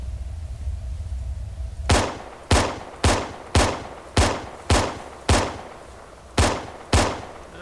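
Weapon fire from the Arma 3 video game with the OPTRE mod, heard as nine loud, sharp single shots at a fairly regular pace, each with a short echoing tail, following a moment of low background hum.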